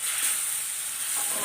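Vinegar hisses as it is poured into a hot pan of pickle made from lovi-lovi fruit; a brief, soft, steady sizzle heard close up and alone.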